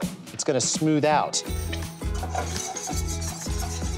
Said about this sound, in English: flour goes in, it's gonna foam, that's fine, and I just want you to whisk